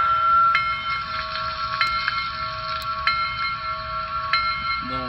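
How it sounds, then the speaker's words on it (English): A model train locomotive's electronic sound system rings its bell in a steady, repeating clang over a constant steady hum, heard up close with no talking. "Let's listen to the bell."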